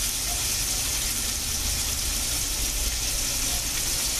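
Swedish meatballs frying in a pan, a steady loud sizzle with an even hiss throughout and no talking.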